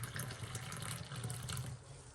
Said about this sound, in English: Then we're going to pour some in this cup here.